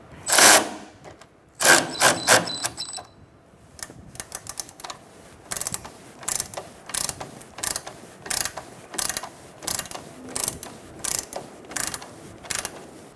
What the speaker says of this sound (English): I have a wrench on my stud, 16mm and a 15mm socket for the nut, and we're going to snug it up.